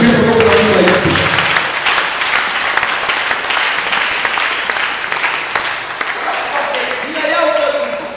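A church congregation at a French-language Sunday service applauds loudly and cheers in acclaim of Jesus, sustained dense clapping with voices mixed in, fading slightly toward the end.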